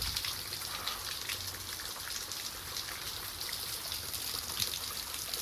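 Waterfall at McConnells Mill State Park, a steady broadband rush and splash of falling water that holds even and fairly close for the whole stretch, with no voices.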